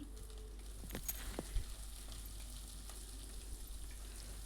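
Sweet pumpkin sautéing in oil in a pan with softened onions: a faint, steady sizzle with a few light stirring knocks, quiet and without voices.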